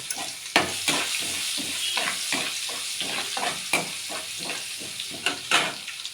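Ginger garlic paste sizzling in hot oil for plain palak, a steady frying hiss broken by regular scraping strokes of a spatula stirring the pan.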